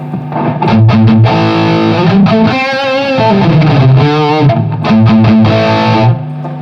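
Heavily distorted electric guitar chugs and sustains loudly through a Peavey JSX amp with mids and bass maxed, the overdriven amp sounding saturated and clipped, with brief pauses between riffs.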